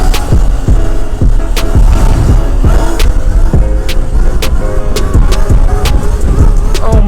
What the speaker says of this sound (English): These are all just power wheelies because I'm too scared to really give it some.